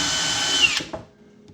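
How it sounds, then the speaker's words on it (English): A drill whines steadily at close range for under a second while drilling a pilot hole in wood, then cuts off and winds down into quiet. "with the pilot holes drilled, I can get a screw in."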